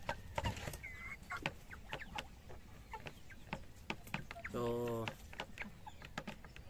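Backyard chickens raised as pets cluck in short bursts around a person speaking briefly, with one louder drawn-out squawk standing out midway.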